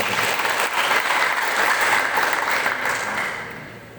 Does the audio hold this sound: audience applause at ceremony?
yes